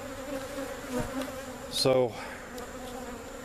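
Honey bees from a laying worker hive buzz around the hive entrance, a steady hum with one louder pass as a bee flies close by; someone speaks briefly over it.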